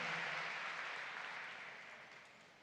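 A church congregation applauds at a service, a full, close wash of clapping that starts strong and gradually fades over a few seconds.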